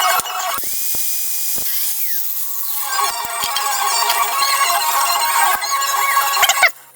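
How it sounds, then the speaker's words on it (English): A wire brush scrubs rust off brake caliper parts from an R50 MINI with binding brakes. The harsh, continuous scratching is close and loud and grows fuller partway through before cutting off abruptly, with no voices. "I am going to clean that up with a wire brush."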